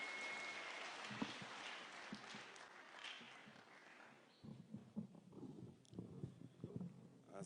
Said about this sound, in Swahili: Tumpigeni makofi mazuri.